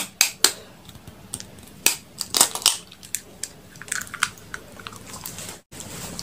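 Eggs being cracked for a street-food snack to be fried, giving sharp close taps and crunches in irregular bursts followed by lighter clicks, with no talking.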